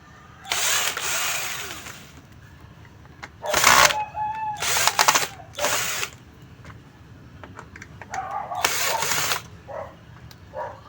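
Screws are driven out of a GMA Affordabox portable TV box with a power drill, giving several loud short whirring bursts separated by pauses and small clicks and handling noises up close.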